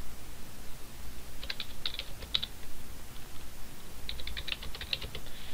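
Typing on a computer keyboard in two short bursts of quick, light key clicks separated by a pause, faint against a quiet room.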